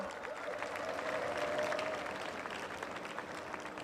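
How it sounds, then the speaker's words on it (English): Steady applause from a large cricket crowd, a dense wash of clapping that holds at an even level throughout, heard somewhat distant. "A big round of applause for the great Mohammad Yusuf."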